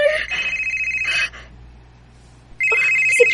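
A cellphone rings loudly with an electronic ringtone, stopping briefly before ringing again, in a quiet indoor setting with no talking.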